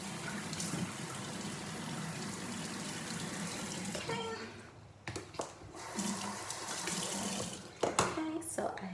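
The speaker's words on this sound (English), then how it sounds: "first I'm gonna wet my face in 1 second" Water runs steadily from a sink tap while a face is wetted, a continuous close rush that breaks up partway through into splashes and brief pauses, with faint voices in the background.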